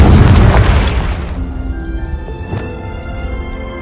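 A Confringo blasting spell explodes in a Harry Potter video game, a loud booming burst that fills the opening second and a half before decaying into a ringing tail with scattered small crackles.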